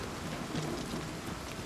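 Steady rain falls in a video game world during a stormy night, a dense close hiss of drops without any talk over it.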